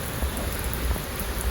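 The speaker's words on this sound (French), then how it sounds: "Vous allez pas voir, mais il pleut vraiment." Heavy outdoor rain in a downpour, a steady dense hiss of drops hitting surfaces with a low rumble beneath, loud and continuous throughout.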